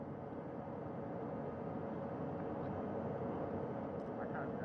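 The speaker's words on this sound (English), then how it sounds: "Helicopter 1 again hovering 40 feet over the front porch." A recovery helicopter hovers about 40 feet above a returned Artemis II crew capsule at sea, a steady, dense rotor-and-engine roar with wind and water noise, constant and fairly loud with no break throughout.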